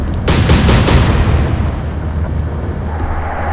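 Naval guns fire in the warship game Atlantic Fleet: a quick run of four heavy booming shots in close succession, then a long rumbling decay that fades away.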